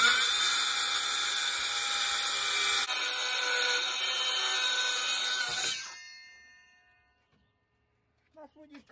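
A Makita power tool cuts along a chalk line during a koi pond build, a loud continuous high whine for about six seconds that then spins down and fades to silence, followed by a few faint knocks.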